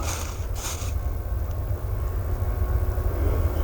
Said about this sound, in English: TUI white 737-800, closely followed by a runway inspection vehicle.